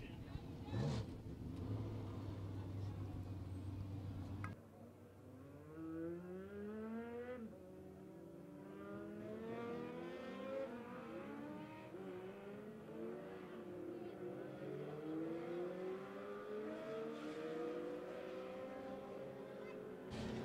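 Legends class race cars run a heat race at Monett Motor Speedway, engines revving and whining at varying pitch as they pass, with a public-address announcer talking over the steady roar throughout.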